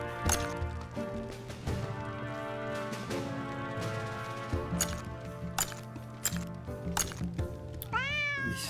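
A cat meowing repeatedly in the video game Drova, several drawn-out tonal meows in sequence with sharp clicks and knocks between them, ending in a rising, wavering yowl, fairly close and clear over faint game sounds.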